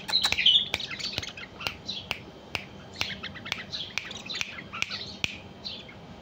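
Caged bulbuls chirping and squawking in a small cage, bright repeated calls with sharp clicks, close and fairly loud throughout with no talk.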